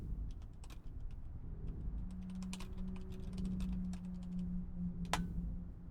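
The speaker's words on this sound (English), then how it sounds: "This is a Logitech G710 with Cherry MX Brown keys on it." Keystrokes on a Logitech G710 keyboard with Cherry MX Brown switches, a steady run of soft, fairly quiet taps over a low background hum, with one sharper clack near the end.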